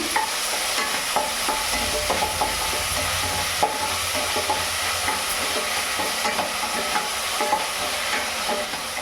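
Mint paste frying for mint rice, giving a steady loud sizzle in a pan with frequent scraping stirs and light clinks throughout, no voices.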